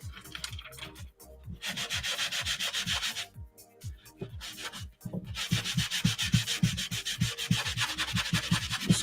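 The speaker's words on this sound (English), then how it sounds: "first let me scuff that up" A surface on a RiteWing Nano Drak model build is scuffed with hand sanding, giving quick rhythmic back-and-forth rasping strokes, close and fairly loud, with two short pauses between runs.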